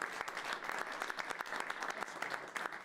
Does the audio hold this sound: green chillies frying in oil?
no